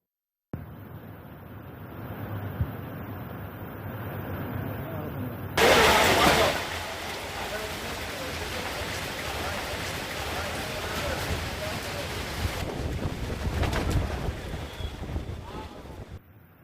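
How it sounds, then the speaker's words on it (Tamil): Strong wind with heavy rain at night in Vellore district, Tamil Nadu, heard as a continuous broadband roar with a louder gusting surge near the middle before settling back to a steady rush. "இரவில் பலத்த காற்றுடன் கனமழை பெய்தது"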